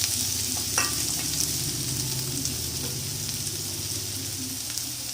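Onion frying in a spoonful of oil in a pan on a gas stove, a steady close sizzle with occasional stirring scrapes, no talk.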